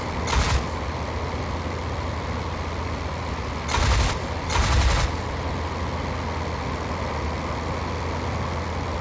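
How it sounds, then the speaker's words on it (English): Short bursts of machine-gun fire from a WWI aircraft's guns in the flight game Flying Circus, three loud broadband bursts near the start and around four to five seconds, over a steady engine drone with no talk. "Cocking my guns just in case I wasn't firing both guns."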